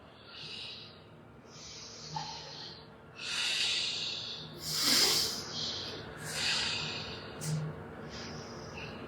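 Slow, deep breathing while holding a yoga pose, with long audible inhales and exhales repeating in an even rhythm, close and fairly soft with no talking.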